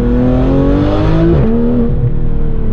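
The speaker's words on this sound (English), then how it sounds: "Especially those blats between the shifts. That PDK transmission barely interrupting the power whatsoever, but produces such a phenomenal noise" A Porsche GT3 RS engine with a PDK gearbox revs hard, a loud, close, rising mechanical wail that drops sharply at a shift with a quick blat before climbing again.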